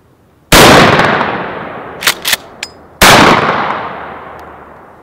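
Two loud Beretta A400 Xtreme shotgun blasts, each a sharp crack followed by a long decaying boom outdoors, with a couple of smaller metallic clacks from the semi-auto action cycling between them.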